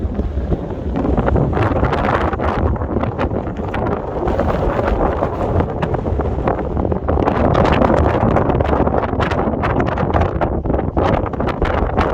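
Strong wind buffets a microphone on a Scottish mountain in the Drumochter hills, a loud, continuous roaring rumble with gusting surges throughout.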